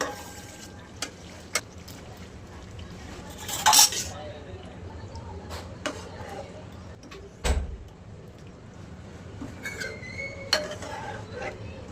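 Drumstick pods tumble into a pan of oily masala, with metal clinks and a spoon scraping and stirring, including a sharp clatter midway, over a low background hum.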